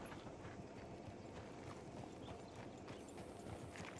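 Horse hooves clip-clop at a steady trotting rhythm in the Red Dead Redemption video game, faint and low in level beneath a hissing background wash.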